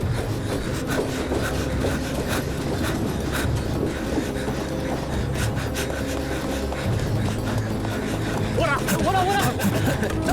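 A moving train gives a loud, continuous rumble and rattle with rhythmic clatter from the carriages, and voices sound faintly through the noise.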